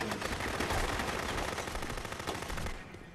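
Rapid automatic gunfire from a gun in the video game Rogue Warrior, a dense, continuous burst of shots that runs for about two and a half seconds before cutting off sharply.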